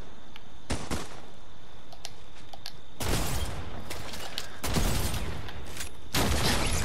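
Gunfire from crafted mechanical weapons in Fortnite, loud repeated bursts of shots in clusters separated by short gaps, with sharp single reports scattered between them.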